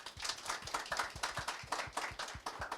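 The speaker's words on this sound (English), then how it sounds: "a round of applause" An audience at a digital finance panel claps in a brief, quiet round of applause. The claps are fairly sparse and fast, and nobody speaks.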